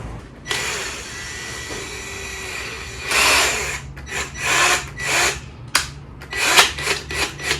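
A power driver sinks screws into window frame profiles while fitting mahogany-coloured double glazing, giving a near, loud whine followed by several short, choppy bursts with pauses between them.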